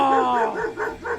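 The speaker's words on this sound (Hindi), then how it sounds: "दिस इज कुत्ता" A dog gives a quick series of about four short barks, close and fairly loud, while a person's voice is heard briefly at the start.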